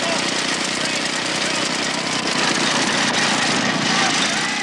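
A motorized push lawn mower from a 1981 British lawn mower race runs with a loud, rough, buzzing engine clatter, steady and close throughout, with a slight rise in intensity near the end.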